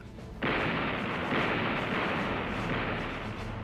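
USS New Jersey battleship 16-inch guns firing 1,900-pound shells, heard as a sustained loud roaring rumble that sets in abruptly and holds for several seconds without speech.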